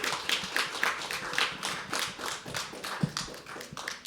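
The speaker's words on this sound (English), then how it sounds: "another round of applause for her" Scattered clapping from a small audience at a live poetry open mic, a quick burst of irregular claps and taps filling a few seconds, close and moderately loud with no talking.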